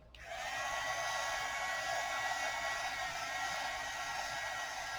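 A hand-held dryer blowing on ink on an art journal page switches on and runs as a loud, steady whooshing hiss for several seconds, with no talking.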